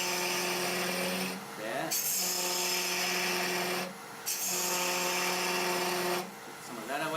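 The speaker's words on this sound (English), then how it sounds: "I'm going to take some of the wood away with the little quarter gouge" A small quarter gouge cuts a wooden goblet spinning on a lathe at about 2,400 rpm, a steady bright scraping drone with harmonic hum that pauses twice as the tool lifts, with a brief spoken word.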